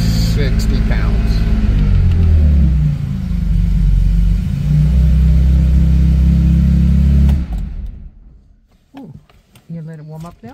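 A car engine idles with a deep, steady low rumble that swells as it is revved toward 2000 RPM, then drops away near the end, leaving faint, broken sounds.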